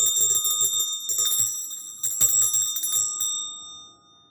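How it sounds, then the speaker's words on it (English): A real brass bell Christmas tree ornament rings loudly in a quick series of shaken, bright metallic jingles that overlap, then fades out after a few seconds, with no talking. "It's real brass with it's a real bell. You can ring it loud."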